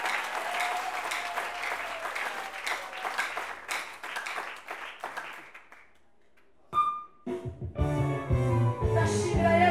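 Church congregation applauding during a prayer service, a dense, steady burst of clapping for about six seconds, then a brief lull before music with singing comes in.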